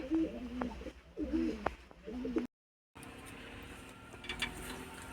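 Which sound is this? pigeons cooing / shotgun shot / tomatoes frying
pigeons cooing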